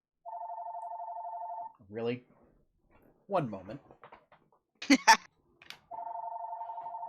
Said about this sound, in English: We get to hear Sean answer his home phone.